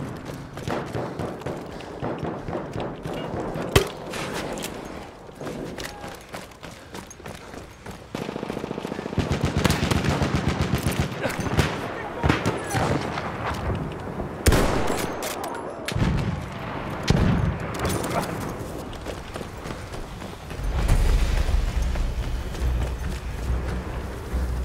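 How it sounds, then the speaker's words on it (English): Gunfire from the video game Battlefield 1: repeated machine gun bursts and scattered shots crack through a busy battle soundscape, with thumps and occasional faint voices mixed in. "machine gun over there."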